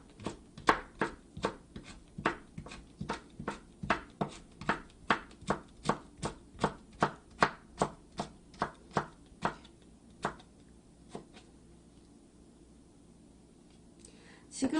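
A knife julienning a peeled cucumber into 0.2-thickness strips on a cutting board: a steady run of about thirty crisp, evenly spaced chops that slows and thins out before stopping, then a soft handling noise at the end.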